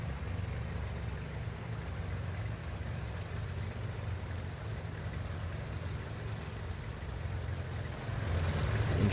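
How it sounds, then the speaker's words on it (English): Piston twin-engine drone of a MilViz Cessna C310R in a Prepar3D flight simulation over Alaska, a steady low rumble that holds throughout and swells slightly louder near the end. "This engine sounds so good."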